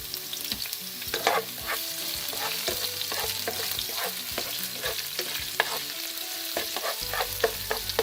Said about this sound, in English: we're going to saute this on fairly high, medium to high heat till your onions are lightly browned for about 2 to 3 minutes